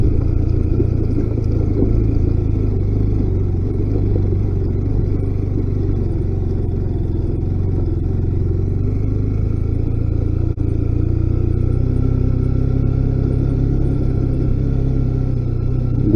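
A motorcycle loaded with strapped-on luggage rides a rough mountain road between Budhi and Gunji, its engine a steady, close, low rumble with wind noise throughout and no talk.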